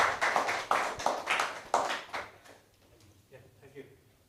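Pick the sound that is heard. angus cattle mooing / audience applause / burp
audience applause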